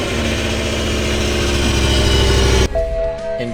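A BMW V10 supercar engine idling rough with misfires, a loud close uneven rumble with stumbling pulses that cuts off abruptly near the end, followed by quieter background noise.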